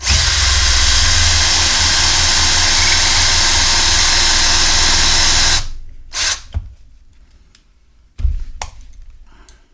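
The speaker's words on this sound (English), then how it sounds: "Grab it with this so it doesn't spin. Drill it out." A power drill whines loudly and steadily for several seconds drilling out a snap on a leather vest, then stops, followed by a few brief clicks and short bursts of handling noise.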